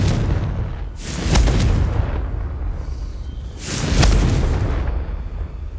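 Two loud, booming blasts roll out about three seconds apart as the Confringo fire spell explodes in Hogwarts Legacy, each a deep rumbling burst fading into a continuous noisy background.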